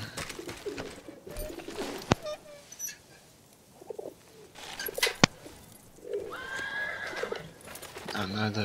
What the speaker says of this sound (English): Another pigeon.